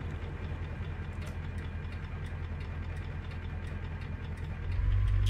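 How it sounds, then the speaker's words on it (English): Peterbilt 379 truck engine in a trucking video game, with a Z's Peterbilt extension pack sound mod, pulling an extended-frame tractor with a short trailer: steady low diesel drone with faint rhythmic ticking clicks, swelling louder in the last half-second. "you hear the inside of the engine clicks and all that other good stuff, that is all from Z's Peterbilt extension pack"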